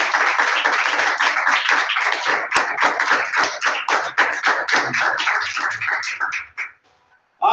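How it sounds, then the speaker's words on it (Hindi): A church congregation breaks into loud, sustained clapping that holds steady for several seconds, then thins out and stops abruptly, leaving a brief silence. "एक बार जोरदार ताली"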